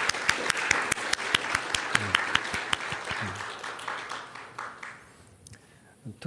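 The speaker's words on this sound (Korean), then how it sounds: "다시 한번 하나님께 영광의 박수로 돌려드렸으면 좋겠습니다." A church congregation claps after a special hymn, steady crowd applause with a few sharp, prominent claps, gradually thinning and fading out near the end.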